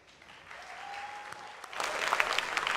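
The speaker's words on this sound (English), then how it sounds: "A big round of applause for Zoya." Audience applause at a fireside chat event, a crowd clapping that builds up and grows louder and denser in the second half, with a brief tone in the middle.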